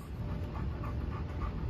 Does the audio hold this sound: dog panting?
yes